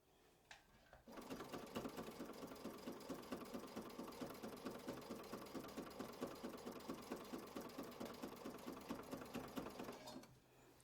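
A sewing machine stitches a quilt block in a steady, rapid run of needle strokes lasting about nine seconds, close and fairly loud, starting and stopping abruptly with no talking.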